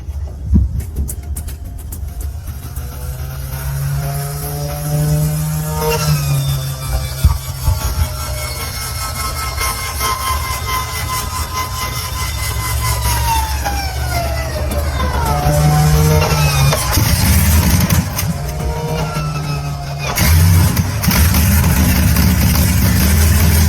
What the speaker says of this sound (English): saw something special running. Their museum's Spitfire engine.